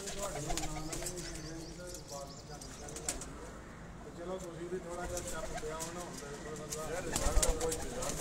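Dubai teddy pigeons on a rooftop coo in soft, repeated low calls, with occasional wing flaps, beneath steady nearby talking.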